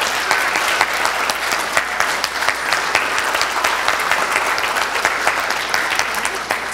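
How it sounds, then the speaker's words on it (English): A church congregation applauds after baptisms at a Sunday worship service, steady dense clapping from many hands filling the room throughout, fairly loud and sustained with no pause. "Let's applaud."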